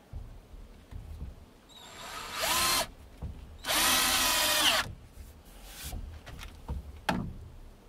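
A cordless power drill drives screws into a wooden DIY shooting stand in two whirring bursts of about a second each that rise and then stop, close up, with a few light knocks and handling clatter between them.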